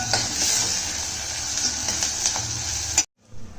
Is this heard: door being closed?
no